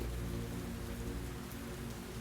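Steady rainfall patters densely and evenly on a surface, a soft continuous hiss with no voices or other sounds, fairly quiet throughout.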